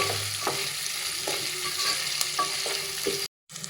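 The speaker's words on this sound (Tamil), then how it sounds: "வெங்காயம் நல்லா வதங்கணும்." Onions sautéing in a pan for tomato biryani, giving a steady close sizzle broken by repeated soft scrapes of a spatula, briefly cutting to silence near the end.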